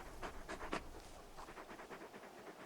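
Torgal, a large dog in the video game Final Fantasy XVI, pants in quick rhythmic breaths, rough and fairly close, with a few stronger huffs at the start and no speech over it.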